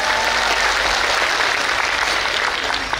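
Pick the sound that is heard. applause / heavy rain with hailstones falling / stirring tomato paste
applause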